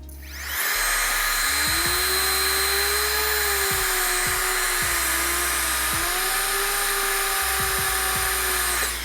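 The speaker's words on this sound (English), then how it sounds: "Let's try with the BlowerBaby." A Nitecore BlowerBaby electric air blower runs continuously at a steady high-pitched whine, close and loud, with no talking.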